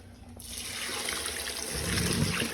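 Water from a tap starts abruptly and runs steadily into a sink while something is soaped and washed under it, a close, continuous splashing flow.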